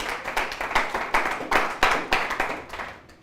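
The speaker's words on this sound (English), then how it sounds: "a round of applause for God Almighty for making this possible today, please." Applause from a room full of people, steady hand clapping with swells and dips over a few seconds, no voices on top.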